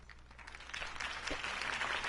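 Crowd applause in GTA 5 builds from scattered clapping into a steady, fairly loud ovation over a low background hum, with no speech.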